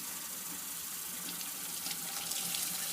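Water sloshing and gushing inside a dishwasher spray arm as it is tipped back and forth to flush out debris, a steady close wash of running liquid with no talk.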